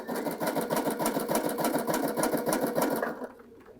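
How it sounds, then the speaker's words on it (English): A Sashiko sewing machine, just cleaned and serviced, stitches in a fast, even mechanical rhythm of close, steady clatter that stops abruptly near the end. "notice the difference in the sound of your machine and the precision stitching that you have after doing your cleaning"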